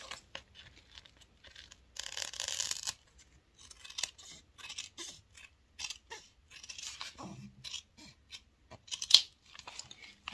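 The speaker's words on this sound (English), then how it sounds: "I am actually going to trim it a little bit." Scissors trimming fabric lining for a sunglasses case, a series of short crisp snips and cuts, close and fairly quiet, in irregular bursts with pauses between.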